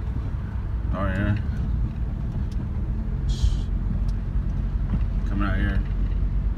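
A Honda CR-V with all-wheel drive rolls over off-road trails, giving a steady low rumble of engine and road noise throughout, with people talking over it in the cabin.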